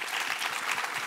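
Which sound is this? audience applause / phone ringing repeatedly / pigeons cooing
audience applause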